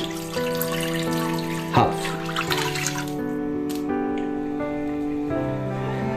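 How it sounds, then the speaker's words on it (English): Beef broth pours into a pot in a continuous splashing gush, close and fairly loud, with a cooktop hum underneath and a brief spoken word. "We're gonna drop the broth and reduce"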